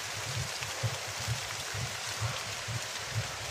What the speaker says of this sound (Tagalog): Umuulan, lakas ng ulan dito.